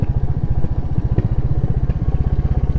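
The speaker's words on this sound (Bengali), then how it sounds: "ধীরে সুস্থে বাইক চালিও, পুরো আঁকা বাঁকা পথ।" A motorcycle descends a winding mountain road with loose gravel and sand, its engine holding a steady low, rapid thrumming beat throughout, close and fairly loud, with no talk over it.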